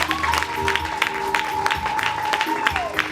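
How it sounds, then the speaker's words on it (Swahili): Congregation at a church service claps for Jesus, rhythmic and continuous, under a held musical tone and voices. "Chapa makofi kwa Yesu."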